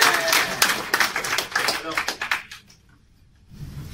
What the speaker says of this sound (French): vous avez applaudi pour Hello